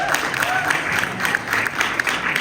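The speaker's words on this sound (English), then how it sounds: "y'all should give that a round of applause" A caucus meeting audience applauds in a steady, moderately loud wash of clapping filling a large room, with some voices faintly mixed in.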